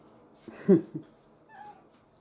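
A single agitated cat meow indoors, fairly close, with a short strained rise and a fainter trailing cry afterward over quiet background.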